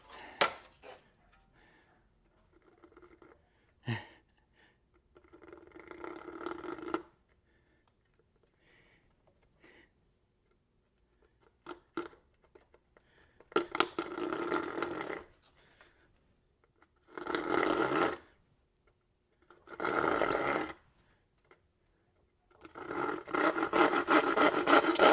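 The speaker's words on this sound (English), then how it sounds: "See how that saw is gonna work on cutting this." Hand saw strokes rip through wood while cutting an axe handle for a 7-pound head on a 17-inch haft, coming in bursts of rasping back-and-forth sawing separated by pauses, up close with no talk.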